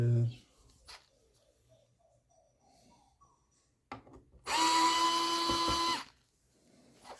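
A screwdriver works screws loose from a graphics card backplate during a water block install. Soft clicks and scrapes are followed by a louder whirring burst lasting about a second and a half.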